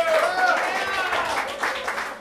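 Audience applause and cheering at a stand-up comedy show, a dense wash of clapping mixed with crowd voices and whoops that stays steady and loud through the short stretch.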